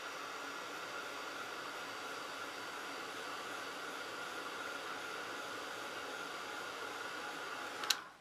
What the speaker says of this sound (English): all I'm going to do with that is just to dry it, make sure it is perfectly dry